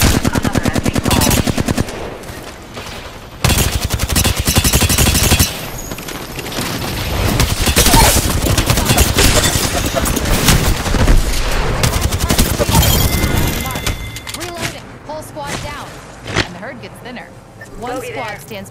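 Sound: gunfire in a video game firefight

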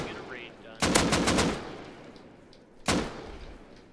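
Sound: gunfire in Rust video game

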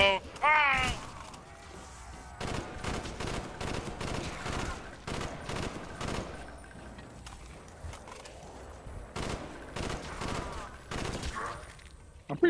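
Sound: gunfire in video game Call of Duty Black Ops

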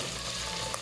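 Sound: onions and aromatics sautéing in a pan

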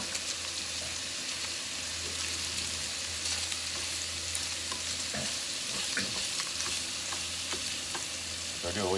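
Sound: cabbage added to frying pork, sizzling in pan

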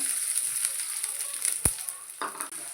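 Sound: onions frying in oil

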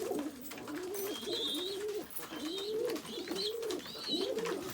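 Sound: tumbler pigeons cooing

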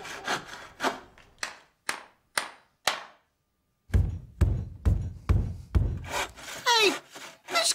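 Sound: head banging against wooden headboard

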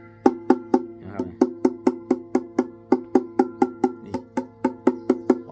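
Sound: knocking on wooden lute body

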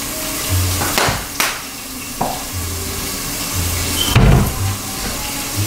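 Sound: food frying in a pan with thyme

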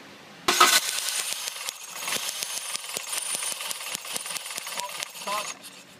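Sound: car engine cranking during coil spark test

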